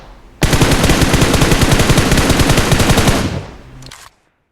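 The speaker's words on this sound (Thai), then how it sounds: "เมื่อกี้น่าจะได้ยินเสียงปืนแถวๆนี้นะครับ" Sustained automatic gunfire in PUBG Mobile, a rapid loud burst of shots lasting about three seconds, then a brief trailing echo and a final faint shot before silence.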